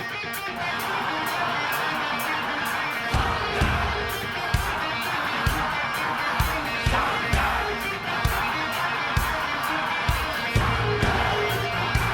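Large stadium crowd at a live concert at River Plate, a dense continuous roar of massed voices chanting and shouting, with rhythmic sharp accents punching through the steady din.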